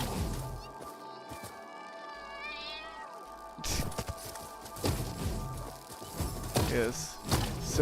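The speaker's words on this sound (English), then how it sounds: "And then I realized it's a cat" A cat meowing in the Satisfactory video game, a few rising meows amid game sounds and clatter, with people talking over part of it.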